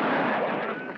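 Gunfire in a spaghetti western shootout, a dense, loud roar of overlapping shots and blasts filling the whole second without pause.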